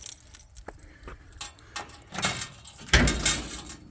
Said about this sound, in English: let me get the keys out of the ignition